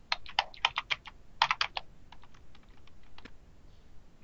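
Search terms are typed on a computer keyboard in quick clustered bursts of close, crisp key clicks, thinning to scattered taps toward the end.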